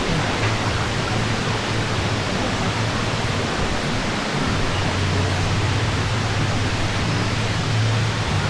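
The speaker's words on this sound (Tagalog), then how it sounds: "So, yun yung Bastag Falls." Batlag Falls waterfall in Tanay, Rizal, giving a steady, dense broadband rush of falling water that stays constant and fairly loud for the whole stretch, with no voices.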